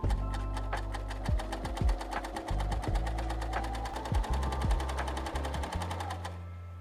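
A Bernina overlocker running a cover stitch with a belt loop attachment, a fast, even mechanical chatter of needle strokes close up, with a few soft thumps underneath before it stops near the end.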